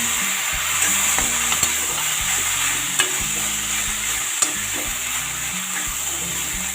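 Mashed potato goes into a sizzling pan and is stirred, a bright frying hiss under repeated scraping and knocking of the spoon, with a few sharp taps along the way.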